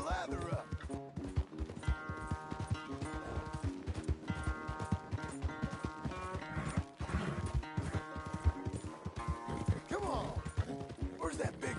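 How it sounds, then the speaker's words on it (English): A horse galloping in the video game Red Dead Redemption 2, rapid rhythmic hoofbeats mixed with tack rattle and music, with a voice speaking over it. "Where's that big mean horse?"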